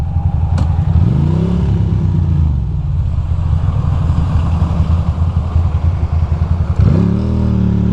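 Ducati Monster motorcycle with 48K miles riding on a city road in the cold, its loud steady engine drone rising in revs twice, near and continuous with no talk.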